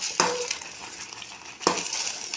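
Rava kesari semolina being stirred in a pan with ghee, with a steady soft hiss and two distinct scraping strokes of the spoon against the pan, close by.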